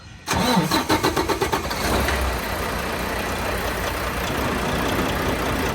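A new Volvo truck engine cranks and catches with a quick run of firing pulses, then settles into a steady, loud, close-up diesel idle with no voices.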